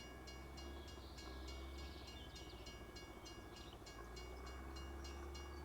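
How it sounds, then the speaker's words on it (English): A train passes by in the video game Farming Simulator 25, a faint, steady rumble with regular clicking pulses from the wheels. "Ooh, I hear a train."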